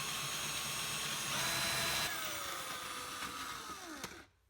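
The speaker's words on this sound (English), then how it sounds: "I need to drill that out." Drill or Dremel boring out a hole in a 2016 Yamaha EX Wave Runner jet ski, a continuous high whine that changes pitch as it loads and slows, then winds down and stops, heard close and alone.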